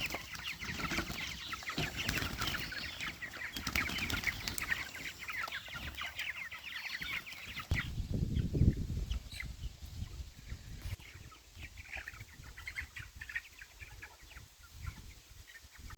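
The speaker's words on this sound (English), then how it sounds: "Release the chicken." Homestead chickens cluck continuously after being let out, a busy chorus of soft chatter and calls mixed with rustling and scratching close by, with a louder burst of activity midway.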